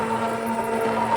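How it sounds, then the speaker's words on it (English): An immersion blender whirs steadily through sweet potato and cauliflower soup, a close, continuous motor drone with no pauses. "Now with our immersion blender, we're gonna"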